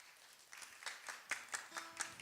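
Scattered applause at an awards ceremony, a light patter of claps that thickens partway through into a modest round of clapping in a large room, with no voices.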